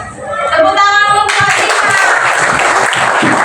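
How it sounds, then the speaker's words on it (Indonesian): Children in a classroom clap their hands in a lively burst of applause that starts suddenly and keeps going, after a brief stretch of a tonal sound and talk. "Tepuk tangan untuk"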